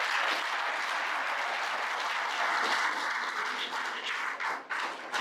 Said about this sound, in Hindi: पहले पूरी दून यूनिवर्सिटी के लिए आप एक बार ताली बजाइए।